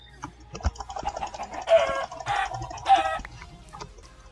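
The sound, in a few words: chickens clucking in a video game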